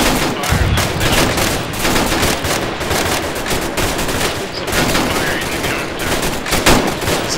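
Sustained automatic gunfire from a machine gun in the military game ArmA III, a dense continuous clatter of rapid shots that stays loud and steady throughout, with bursts overlapping into one another.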